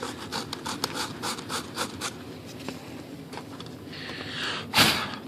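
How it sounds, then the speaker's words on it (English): A sanding block rubs back and forth over a freshly glued composite sailplane flap part for an ASH26 model, giving rhythmic close scratchy strokes and ending in a louder brushing swipe. "So we'll just try it with a sanding block."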